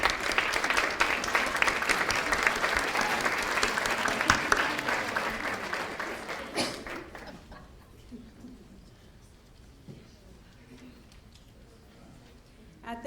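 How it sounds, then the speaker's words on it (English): An audience at a university health sciences white coat ceremony gives sustained applause, a dense roar of clapping in a large hall that holds for several seconds, then fades into quiet room noise with scattered faint sounds. "let's give them a special round of applause to thank them tonight"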